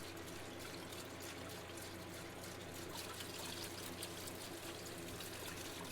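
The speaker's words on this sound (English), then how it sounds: "So my little babbling brook of rust removal has been running here for several days now" Pumped water runs continuously through a rust removal setup on a carnival ride restoration, a soft, steady trickle and babble of flowing liquid with a faint low mechanical hum from the pumps underneath.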